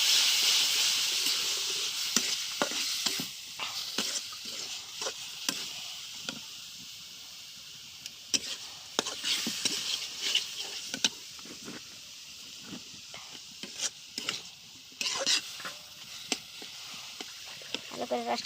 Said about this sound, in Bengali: বাগারটা দিয়ে দেব। কুমড়ো ফুলের পাতা ভাজি।